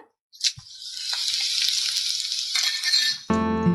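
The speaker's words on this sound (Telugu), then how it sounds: "ఒక 100 గ్రాములంతా ఆయిల్ వేడెక్కిన తర్వాత మిరప గింజలు" Hot oil crackles and sizzles steadily as chili seeds hit about 100 grams of heated oil after a brief clink of the pan, with a bright hiss that persists and swells near the end.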